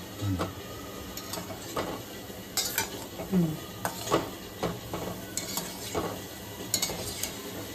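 Snacks deep-frying in hot oil while being stirred, with a steady sizzle and repeated scraping clinks of a utensil against the pan at an irregular rhythm, close and fairly loud, no talking.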